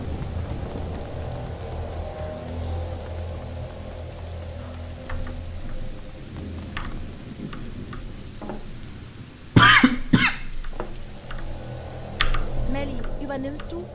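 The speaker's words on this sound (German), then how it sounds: "So, ich habe hier wieder meinen Hustanfall." A character's coughing fit in the game A Plague Tale: Innocence: a couple of sharp, harsh bursts late on, rising out of a steady low, rain-like ambience with voices in the background.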